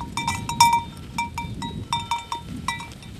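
Bells worn by a flock of sheep on a Dutch pasture clink in a steady, irregular jangle as the animals move, with bright metallic rings recurring every few tenths of a second close by.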